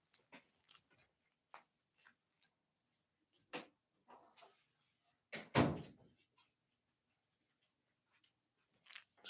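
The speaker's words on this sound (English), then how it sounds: "me shut my door." A door is shut indoors with one loud, close thud near the middle, surrounded by scattered small knocks and handling clicks in an otherwise quiet room.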